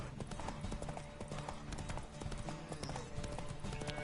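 Galloping horse hooves in The Witcher 3 during a horse race, a fast, steady clip-clop rhythm that stays loud and continuous throughout, with game music and effects layered underneath.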